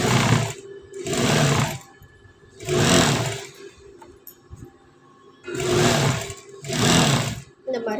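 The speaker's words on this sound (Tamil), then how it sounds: "அடுத்தது வந்து ஸ்லீவ் வந்து நம்ம அடிச்சுக்க போகிறோம்." Sewing machine stitching a blouse sleeve, running in four loud whirring bursts of about a second each separated by short pauses, close up, with a voice speaking quietly between runs.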